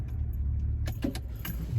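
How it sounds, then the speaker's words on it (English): A classic car's engine is switched off: a low idling rumble gives way to key jangling and clicks from the ignition, heard close inside the car. "I'm just gonna turn off the car."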